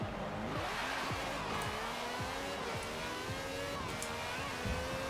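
An Italian supercar in Forza Horizon 4 screams through repeated upshifts, its engine note climbing and dropping in a rapid sawtooth pattern, loud and close, with a faint tire squeal under the roar.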